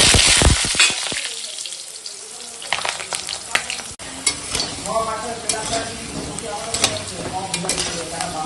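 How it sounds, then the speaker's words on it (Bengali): Potatoes fry in hot oil in a pan with a loud sizzle, then keep crackling and bubbling close up while being stirred, with scraping stir sounds punctuating the steady frying. "আলুটা এখন ভেজে নেব"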